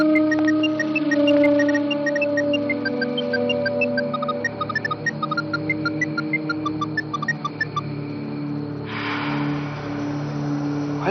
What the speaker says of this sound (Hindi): मोबाइल की आवाज आ रही है